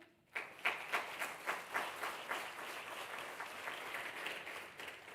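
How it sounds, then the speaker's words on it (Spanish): Audience applause for the Spanish accounting institute president (ICAC) at an ESG trends event, a steady round of clapping that starts abruptly and continues at an even level through the whole stretch, with no talk over it. "un fuerte aplauso para él"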